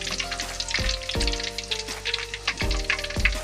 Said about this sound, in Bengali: চিকেনগুলো ভাজা হয়ে গেছে, লাল লাল করে।